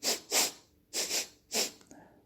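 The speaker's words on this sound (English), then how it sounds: "There it was again, a sort of sniffing noise." Several quick, breathy sniffs in close succession, close and fairly soft, with brief pauses between them.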